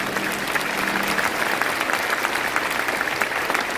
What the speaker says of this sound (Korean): 이제 정말 뜨거운 박수로 우리 축하해 주시기 바랍니다